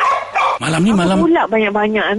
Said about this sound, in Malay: Awak tak dengar anjing kat luar tu.